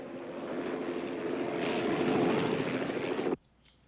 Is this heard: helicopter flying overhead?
yes